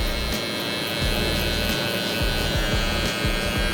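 A Braun Series 9 electric shaver buzzes steadily and close while shaving hair in a barber fade, a continuous motor hum with rhythmic low pulses as it passes over the head.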